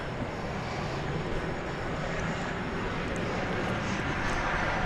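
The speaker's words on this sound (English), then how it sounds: "There's a plane going over us there." A plane passes overhead at DFW Airport, a steady broadband roar of jet engine noise that fills the whole clip at a constant, fairly loud level with no clear rise or fade.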